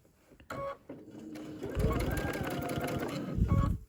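Sewing machine stitching a denim table runner, with a brief burst of stitching followed by a steady, close run of rapid mechanical stitching over the final two seconds.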